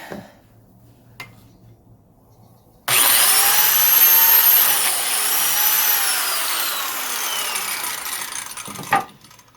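A DeWalt biscuit plate joiner whirs to life and cuts a slot in wood, a loud, sustained high-pitched motor whine with changing pitch lasting about six seconds before it cuts off, with quiet handling noises before and after.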